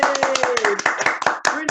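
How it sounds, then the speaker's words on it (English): Audience applause for a poet at a cultural group's poetry event, a short dense burst of clapping with voices talking over it. "a round of applause for P.O."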